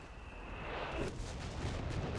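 Artillery barrage from a Bishop self-propelled gun in a strategy video game, heard as a distant rumbling bombardment with a sustained low roar and a rising whistle, fairly faint and continuous, with no one talking.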